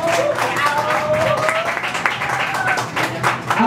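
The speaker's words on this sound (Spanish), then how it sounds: "Aplausos por Amara." Audience applause for a contestant named Amara at a talent show final, a steady wash of clapping from a crowd held at an even level throughout, with a host's voice talking over it.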